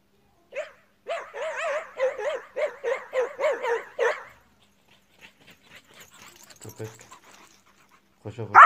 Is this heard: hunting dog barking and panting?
yes